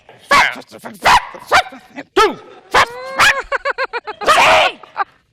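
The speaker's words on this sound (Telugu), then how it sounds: "ఎవరో విమానంలో కుక్క పిల్లలు తీసుకొచ్చినట్టున్నారే. ఇందాక నుంచి అదే మాదిరిగా అరుస్తున్నాయి." Puppies bark, yelp and whimper during a slapstick comedy sketch set on a plane: loud, close bursts of sharp yips and rising-falling whines, some in quick repeated runs, separated by brief pauses.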